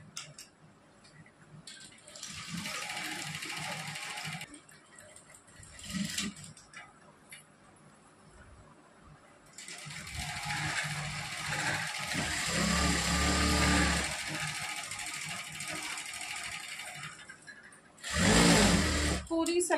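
A sewing machine stitches an Afghani salwar in several separate bursts of fast, close mechanical whirring with quiet pauses between them, and a voice can be heard in some of the gaps.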